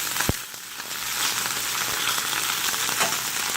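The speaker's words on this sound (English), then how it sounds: "Just want to get a nice sear on that skin and the fat below that skin." Opah fish pieces sear skin-side down in hot oil in a pan, a close, steady sizzle and crackle with a sharp pop near the start, running continuously without talk.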